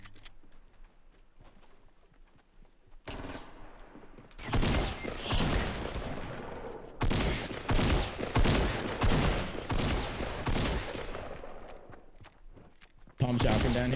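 Shotgun blasts in the video game Fortnite during a tournament match, a run of loud, sharp bursts clustered in quick succession after a quieter stretch with footsteps.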